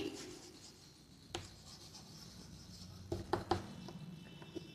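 Chalk or marker scratches and taps across a board during a class 10 maths lesson, a soft continuous scraping with several sharper knocks near the end, fairly quiet and close.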